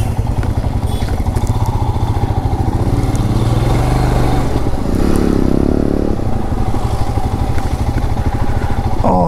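Motorcycle engines, including a Kawasaki Z900 and a Suzuki Hayabusa superbike, rumble loud and close in a steady idle-and-ride drone, with a brief rev swell partway through.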